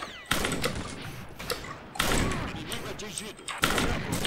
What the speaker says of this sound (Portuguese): Nossa, nem acertou esse tiro.